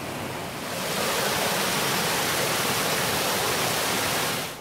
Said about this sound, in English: this is the water coming down from Eaton Falls